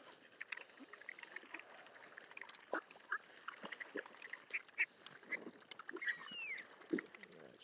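Ducks and other waterfowl being fed at a forest park give scattered quacks and calls amid splashing, fairly faint and distant, with a person speaking quietly at times.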